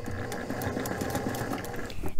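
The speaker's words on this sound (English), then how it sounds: "Take my few stitches, turn my machine on." A domestic sewing machine stitches through a quilt, a close, continuous rapid mechanical chatter with a steady rhythmic pulse that stops abruptly at the end.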